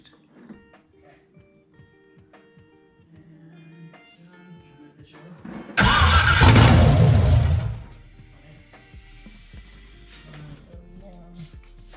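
An LS1 V8 swapped into a Nissan 300ZX and run on a Holley Terminator cranks and fires for its first start, a sudden loud burst of about two seconds that then drops back to quiet shop noise.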